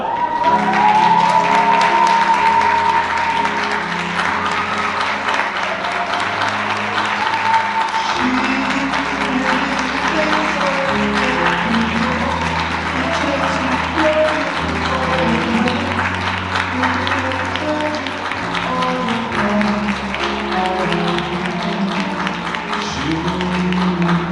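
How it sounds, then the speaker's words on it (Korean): Wedding guests in a convention hall applaud the bride's entrance: steady, sustained clapping from a large crowd over soft background music throughout. "하실 수 있는 가장 큰 축하의 박수로 맞이해 주시기 바랍니다"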